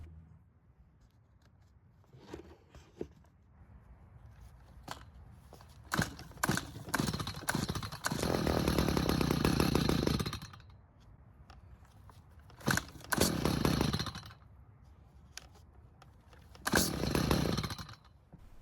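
A Stihl hedge trimmer engine, just fitted with a cleaned carburettor and air filter and choked, cranks in several rough bursts of sputtering that catch briefly and die, separated by quiet pauses.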